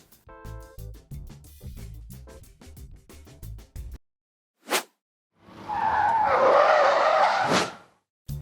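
An Opel Corsa 2024 runs a moose test avoidance maneuver, its tires squealing and skidding in a loud sustained screech of about two seconds after a stretch of choppy sounds and a brief burst.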